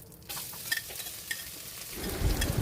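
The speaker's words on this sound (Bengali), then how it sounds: "তেলে গোটা জিরা দিয়ে একটু ভেজে নিয়ে এর মধ্যে আলু দিয়ে ভেজে নিতে হবে।" Whole cumin seeds fry in hot oil, a close steady sizzle with light stirring clicks that swells louder toward the end.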